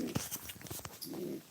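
A small male bird coos softly nearby, a few low throaty calls among light rustling, close but faint and without voices.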